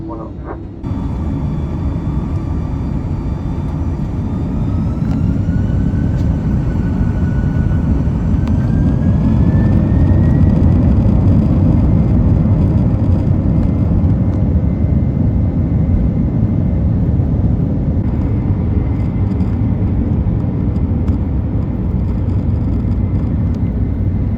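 Iberia Airbus A330-200 taking off from runway 16 right at Lima's new airport, heard from inside the cabin as a loud, steady engine roar that builds early and holds for the whole stretch, with a faint rising whine on top and no talking.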